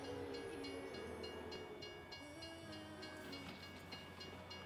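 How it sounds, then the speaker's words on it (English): In the Farming Simulator game, a train rumbles past, loud and close, with a steady rolling roar, rhythmic clicking of the wheels and a tonal horn-like hum throughout, with no speech. "train going through."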